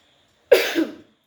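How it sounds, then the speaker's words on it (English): A single short, sharp human cough, close and fairly loud, in an otherwise quiet room. "sorry about the cough."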